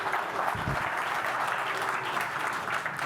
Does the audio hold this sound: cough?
no